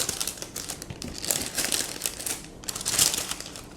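Parchment paper crinkles and rustles in close, repeated bursts as it is gathered by the corners to lift no-knead cheesy bread dough into a hot Dutch oven.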